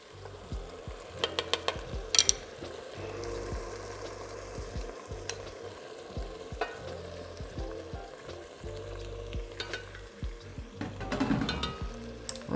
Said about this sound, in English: It's boiling, everything is getting soft.